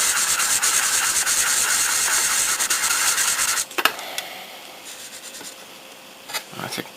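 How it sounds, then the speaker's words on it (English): 600-grit sandpaper rubs steadily over the plastic body of a 1969 Mitsubishi Colt Galant GSII scale model car, a close, continuous rasping that stops after a few seconds, leaving a few light handling scrapes. "I'm just going to start with 600 grit sandpaper."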